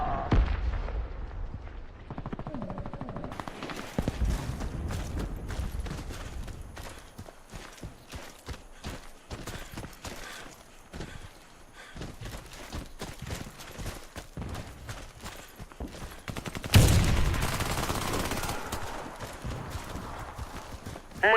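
Rapid gunfire cracks in the video game Warface, with irregular clusters of sharp shots through most of the stretch and a heavier grenade blast late on.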